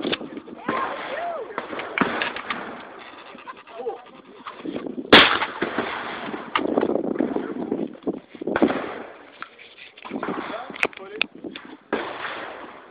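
Shotgun fire at an outdoor shooting range, with a few sharp, loud blasts spaced apart amid people talking nearby.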